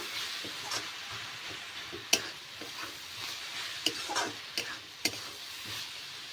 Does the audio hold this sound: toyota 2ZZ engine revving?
no